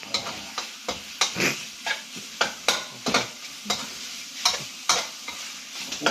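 Sweet leaf vegetables are stir-fried with oyster sauce in a hot pan, with steady rhythmic scraping strokes about twice a second over a continuous sizzle and no talking.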